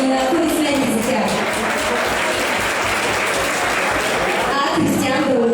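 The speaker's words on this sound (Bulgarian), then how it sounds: "Аплодисменти за тях." Dense, loud applause from an audience at a school anniversary concert, greeting members of a band on stage. The clapping is continuous and fills the whole stretch, with voices faintly audible under it near the start and end.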